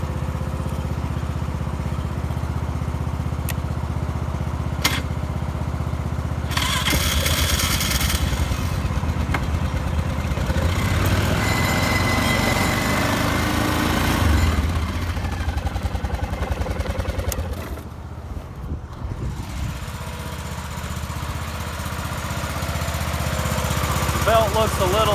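A homemade racing lawnmower's small engine starts, then runs with a loud rough clatter close by, rising and dipping in revs, while someone talks over it now and then.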